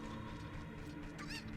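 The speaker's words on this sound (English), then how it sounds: "At least these chickens sound normal." Chickens cluck in Kakariko Village in a Legend of Zelda game, a few close, quick clucks and squawks over a dense background of game music.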